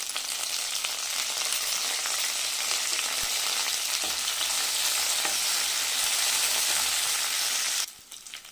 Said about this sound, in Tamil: புதினா ரொம்ப வதக்க வேண்டாம் சும்மா ரெண்டு வதக்கு வதக்கிக்கலாம்